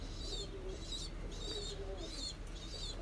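Breeding pigeons in a loft coo softly and repeatedly under a low hum of background noise.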